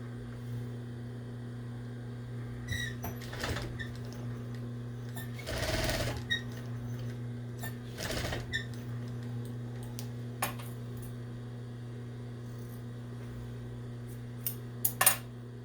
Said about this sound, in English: Now we're going to stitch across the hem of that pocket.